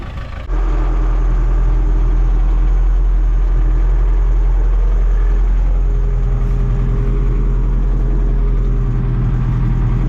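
Vehicle engine running nearby in a farm field during raspberry planting, a loud, steady low rumble that starts abruptly and holds constant throughout.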